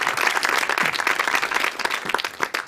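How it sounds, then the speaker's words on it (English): Audience applause after a talk at a culture and environment conference, a close, dense wash of many hands clapping steadily at even loudness for a few seconds. "Nice round of applause"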